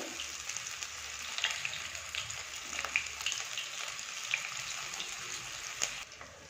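Soybean chunks fry over a low flame for chilli soybean while being stirred, a faint, soft sizzle with light scraping and clinks that quiets toward the end.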